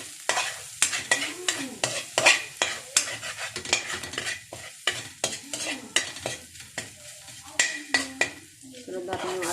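Grated garlic and ginger fry in a pan while a utensil stirs and scrapes in a quick, repeated rhythm of sharp metallic strokes over a steady sizzle, with some faint voice in between.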